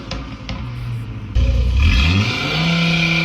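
A Fiat car engine revs up sharply with a loud, rising mechanical roar that jumps in intensity partway through and holds steady, close and alone without talk.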